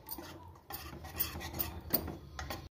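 Chopped onion and tomato are stirred into omelette batter in a bowl, giving faint, irregular scraping and clinking of a utensil against the dish, with short pauses between strokes.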